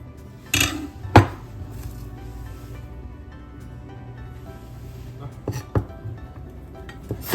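A knife cuts fresh carrot into thin strips on a board, with a few sharp, separate chopping knocks near 0.6, 1.2, 5.7 and 7.3 seconds over a quiet kitchen background.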